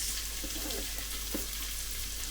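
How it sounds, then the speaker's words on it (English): Onions fry in melted butter inside a Cosori pressure cooker for pea and ham soup, a soft, steady sizzle with a few light stirring scrapes close by and no talk. "we're going to go in with our onions and we're going to just start to cook those."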